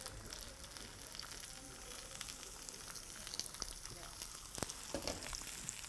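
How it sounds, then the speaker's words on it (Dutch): Steady crackling sizzle of potatoes frying in a pan, with occasional sharper pops and spits, close and continuous throughout. "En die ga ik zo op hun buik in de pan bakken."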